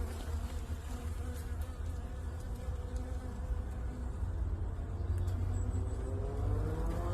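Honeybees buzzing at a hive entrance in early March during a winter fondant check, a steady dense hum of many insects close by, continuous and slightly swelling toward the end, with no talk.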